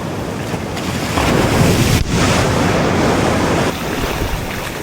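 Ocean surf rolling onto Caucao beach in Horcón, Chile, a steady broadband wash of breaking waves with wind buffeting the microphone, swelling louder midway and easing near the end.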